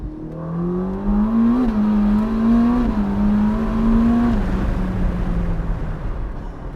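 A 2022 Ferrari SF90 Spider hybrid, nearly 1,000 horsepower, revs on the road as the engine note climbs and steps through gears, heard from inside the car, loud and sustained with a fading tail.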